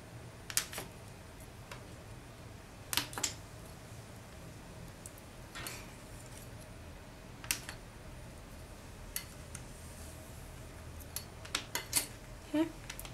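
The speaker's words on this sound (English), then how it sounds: "now I'm just going to trim away these areas so that I know where my backing is" Scissors trimming the backing sheet from a slab of liquid polymer clay, giving a few sparse, quiet snips spread across a soft, steady background hiss, with no talking.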